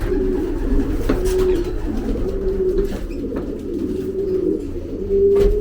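Pigeons cooing nearby in repeated low, soft calls at a relaxed rhythm, over a background of faint rustling and ambient noise.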